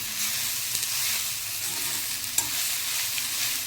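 Masala dry-roasting for a Konkani black pea curry (kala vatana usal) is stirred in a pan, giving a steady soft scraping hiss with faint crackle and one sharper clink, close by and with no voices.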